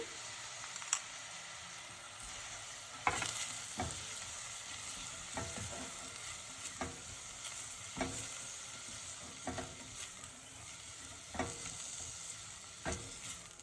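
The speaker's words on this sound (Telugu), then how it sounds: "ఉల్లిపాయ బాగా వేగే వరకు మనం మిక్స్ చేస్తూ ఉండాలి" Onions seasoned with Himalayan pink salt sizzle softly in a pan for an Andhra thali, broken by repeated scraping strokes of a spoon stirring at irregular intervals, fairly quiet and close with no talk.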